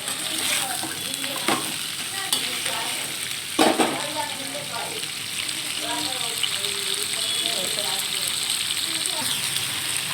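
Vegetables and chickpeas for a spicy Malabar spinach dish sizzle steadily in a pan while being stirred, with occasional scraping clinks, and someone talks over the frying.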